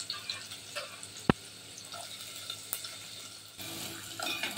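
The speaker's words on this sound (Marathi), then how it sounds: "कांदा लसूण छान परतून घेतलेली आहे।" Finely chopped medium onion and garlic sauté in a pan with mustard seeds and asafoetida, a steady soft sizzle close by, with occasional stirring scrapes and one sharp tap of utensil against the pan.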